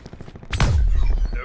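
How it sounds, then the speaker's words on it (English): A single sharp gunshot from Call of Duty gameplay cracks out loudly mid-clip, followed by a deep booming tail, over faint background game noise. "Where did that shot come from?"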